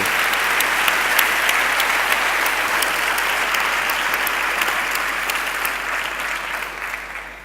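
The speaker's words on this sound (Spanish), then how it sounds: "Yo les pido, por favor, que les den un fuerte aplauso a Núria Oliver y a Andrés Pellegrini" An audience at an international AI congress in Alicante gives strong applause to speakers Núria Oliver and Andrés Pedreño, a loud, even roar of many hands that holds steady throughout.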